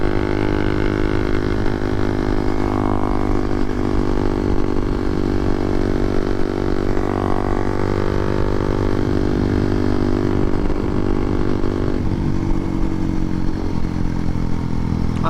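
A Honda Monkey with a 181cc engine held at high RPM, a loud steady buzzing drone with a slight pitch drop near the end, close to the rider and uninterrupted by talk.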